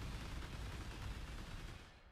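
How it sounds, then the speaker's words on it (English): Bladeblast detonating a cluster of Bladefall blades on the ground in Path of Exile, a dense, continuous crackling burst of blasts holding steady and loud throughout, easing slightly near the end. "and then you detonate it with Bladeblast"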